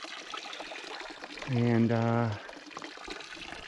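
Spring water flows and pours into a container at a trail spring in the Superstition Wilderness of Arizona, a steady close splash that swells for about a second amid soft background trickle, with a brief spoken word.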